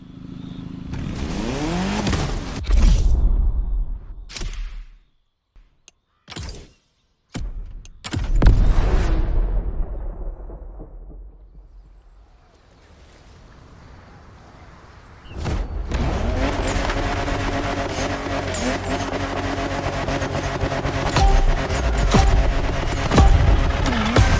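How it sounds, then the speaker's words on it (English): Peugeot 3008 DKR maxi buggy in The Crew Motorfest, an off-road time attack: loud engine roars and revs with sharp bursts and gaps, then a sustained high-revving drive with gear changes, up close and alone. "you're going to challenge yourself even more in the time attack with a maxi buggy, the Peugeot 3008 DKR"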